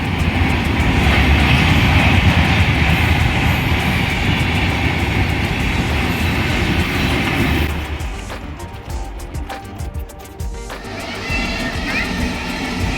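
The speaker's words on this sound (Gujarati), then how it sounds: "બીજી ગાડી આવી" A train rumbles past nearby a railway station with loud, steady broadband noise, then fades into clattering and rattling as it moves away.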